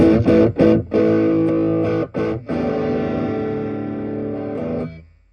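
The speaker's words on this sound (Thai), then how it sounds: "เกณฑ์กลางคือเสียงออกมาดีแล้วคือเป็นโอเวอร์ไดที่ดีมากแล้ว" An electric guitar through a Shark overdrive pedal plays a few choppy chords, then rings out in a sustained distorted chord that fades away, loud and close.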